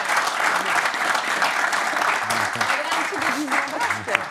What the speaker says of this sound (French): Docteur Lizarazu, qu'on peut applaudir pour sa minute basse.